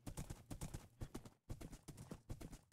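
Horse hooves in the video game Minecraft, a quick run of crisp clip-clop steps in a galloping rhythm, close and clear with one brief pause before resuming.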